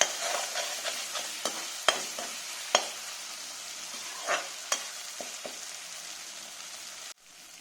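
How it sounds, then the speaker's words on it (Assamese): Spice masala of red chilli powder and tomato puree frying in a pan for a chitol fish curry with poppy seeds and mustard, a steady close sizzle broken by sharp scraping stir strokes, ending with a brief louder burst. "মছলাখিনি অকণমান সময় ভালকৈ ভাজি ল'ম।"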